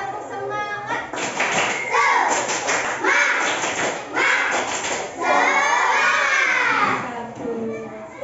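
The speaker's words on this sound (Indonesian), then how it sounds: "Kasihkan tepuk semangat." A primary school class gives a rhythmic spirit clap, bursts of patterned clapping mixed with children's voices chanting and shouting along, close and lively in a classroom.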